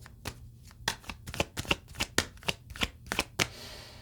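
Tarot cards being shuffled by hand in a quiet room, a close series of about a dozen crisp papery riffles and slaps in an uneven rhythm, with no talking.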